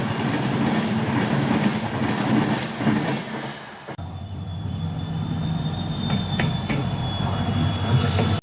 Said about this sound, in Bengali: কাটিহার শিলিগুড়ির ট্রেন পাস করলো এখন